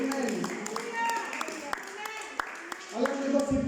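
A church congregation claps for the Lord in scattered, uneven bursts, the sharp hand claps rising and falling beneath a preacher's ongoing voice.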